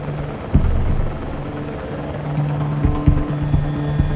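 A Rega rescue helicopter flies toward the Stein glacier, its rotor drone steady and fairly loud throughout, with low thumping blade pulses and a few sharper knocks standing out over the continuous engine hum.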